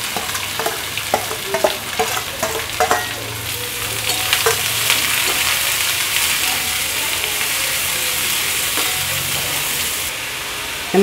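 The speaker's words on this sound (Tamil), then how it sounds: "பாருங்கள், வெங்காயம் நல்லா வதங்கிடுத்து." Two large, finely chopped onions sauté in a pan with salt and chili powder, producing a loud, steady sizzle and hiss, with frequent close spoon scrapes and clinks in the first seconds before the frying settles into a continuous hiss.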